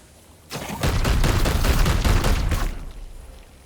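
Rapid sustained automatic gunfire from a Warhammer 40k: Chaos Gate Daemonhunters battle, a loud dense burst of about two seconds of rattling shots that starts abruptly and tails off.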